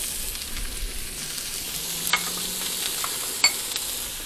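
Orange pepper cubes, zucchini and sliced jalapeno stir-fry in a hot pan, giving a steady, soft sizzle with a couple of sharp clinks from stirring.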